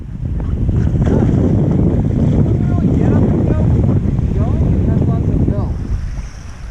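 A Yamaha GP701 personal watercraft fitted with a new prop rides across open water, its engine roar steady and close under strong wind buffeting and splashing spray, easing off near the end.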